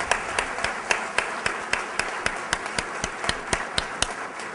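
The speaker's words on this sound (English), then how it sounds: "Let's give them one more round of applause." An audience at an Atlanta MLK Day of Service 2010 event gives a round of applause. Evenly spaced, rhythmic claps ring out over a steady wash of applause.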